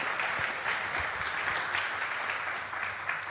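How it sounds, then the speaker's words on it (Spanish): A church congregation applauds visiting parents, a dense, even clapping that continues steadily for a few seconds at moderate volume, with no talk over it. "Denle un aplauso a esos padres que hacen ese esfuerzo de venir hasta este lugar"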